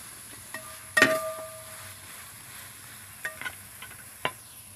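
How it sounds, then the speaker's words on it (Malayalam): A spoon stirs a spiced mixture with salt in a pan for a Northern Kerala dish, giving a few soft scraping and clinking strokes over a faint sizzle, fairly quiet and close. "അതിനകത്ത് ഇച്ചിരി ഉപ്പ് നമുക്ക് ഇട്ട് കൊടുക്കാം നന്നായിട്ടൊന്ന് ഇളക്കിയെടുക്കണം"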